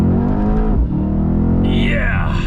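A 2019 Mercedes-Benz C63S AMG pulls hard in second gear, its engine note rising steadily and loud from inside the cabin, with a brief dip before climbing again and a voice cheering over it near the end.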